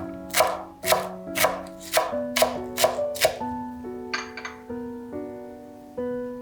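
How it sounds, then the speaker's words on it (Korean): A knife chopping garlic into slices and chives into fine rounds on a board, with about eight crisp, evenly spaced near cuts followed by softer, scattered taps, all without talk. "마늘은 편으로 썰어주세요. 쪽파는 송송 썰어주세요."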